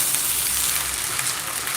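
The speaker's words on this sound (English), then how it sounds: "So we stir the rice to make it mix very well." Rice with green peas sizzles and is stirred in a pot over the fire, a continuous bright crackling hiss with soft scraping underneath, steady and close.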